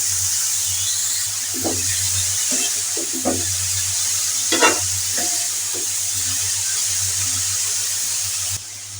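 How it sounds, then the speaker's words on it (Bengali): Bitter gourd and potatoes with turmeric fry in a pan with a constant hissing sizzle. Scattered soft clunks and scrapes of stirring sound over it, close by and with no voices. "এখন আমি করলাগুলো দিয়ে দেবো"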